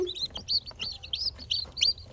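Small chicks cheep in a rapid, high-pitched chorus, close and fairly quiet, with brief overlapping peeps, climbing on and off eggs beside an incubator.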